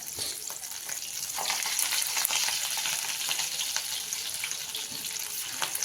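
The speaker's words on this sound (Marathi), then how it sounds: "आता दुसऱ्या आपण तळून घेऊ ह्या टाकून घेऊ अशाच प्रकारे सगळ्या तळून घ्यायच्या" Steady, crackling sizzle of coriander fritters (kothimbir vadi) deep frying in hot oil over a low flame, continuous and close, with no voices.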